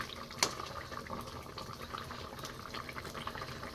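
A pot of fish curry with brinjal and potato simmers at a steady boil, a soft continuous bubbling and hiss, faint and close, with one brief sharper knock near the start.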